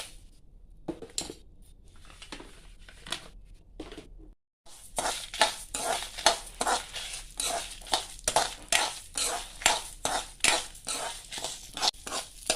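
Moong dal and about eight dried red chillies are dry-roasted in a kadai, with a spoon scraping and clattering in quick repeated strokes and a loud rhythmic rattle near the mic after a brief pause. There is no talk.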